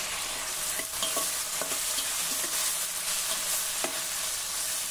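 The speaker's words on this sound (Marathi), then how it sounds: "आता यामध्ये आपण एक मोठ्या आकाराचा टोमॅटो घालूया" A large tomato goes into a pan of softened sautéed vegetables, which sizzle steadily and loudly while a spoon stirs with occasional scraping clicks.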